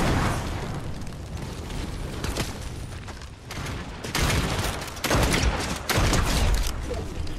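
Gunfire and explosive bursts in the Fortnite video game, loud and dense, with rapid volleys and booms swelling toward the end.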